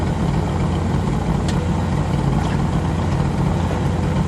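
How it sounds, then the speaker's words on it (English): A 1960 Pontiac Bonneville convertible's 389 V8 idles with a steady, loud, rumbling low burble and a continuous even rhythm, close by and with no talk. "Let me just listen to that idle for a second."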